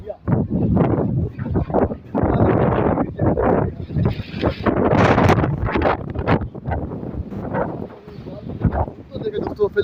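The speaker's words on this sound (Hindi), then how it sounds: "बहुत ज़्यादा तेज तूफान आ रहे हैं।" Strong storm wind buffets the microphone in loud, roaring gusts that rise and fall outdoors, while people talk over and between the blasts.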